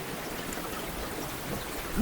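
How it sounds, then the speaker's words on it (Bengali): Steady rain pours during a storm in a Bengali horror cartoon, a continuous wash of drops and trickling water with no voices, holding even from start to end. "যা ঝড় বৃষ্টি শুরু হয়েছে"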